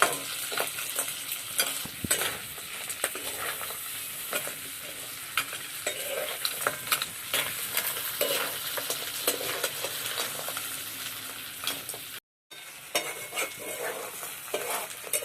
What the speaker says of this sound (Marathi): आता खेकडे पण थोडा वेळ मसाल्यामध्ये तळून घ्यायचे आहेत